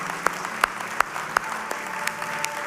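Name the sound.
congregation applauding in church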